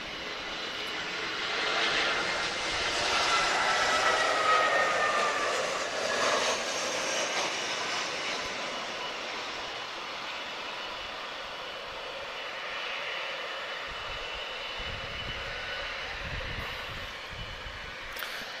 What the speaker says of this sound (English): Azores inbound, A320-214, Tango Kilo Kilo, arriving from Ponce Delgado